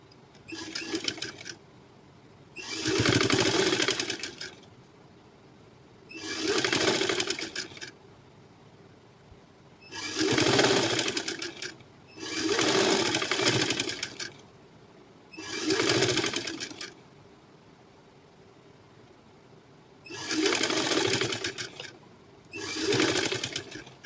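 A sewing machine stitches fusing cloth for a high-neck halter collar, running in repeated bursts of a few seconds each with short pauses between them, close and steady, with no talk.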